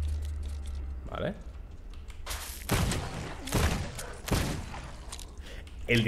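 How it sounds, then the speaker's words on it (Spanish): Gunfire in the dark-fantasy ARPG shooter Remedium: several short bursts of shots crackle loudly over a low droning game background, spaced out across a few seconds. "El disparo es muy satisfactorio, de verdad,"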